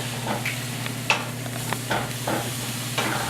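A flipped burger patty sizzles on a hot griddle, a steady close frying hiss with scattered crackles and a few scraping stir-like clatters, no voices.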